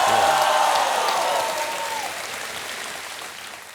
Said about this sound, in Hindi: जरा जोरदार ताली बजा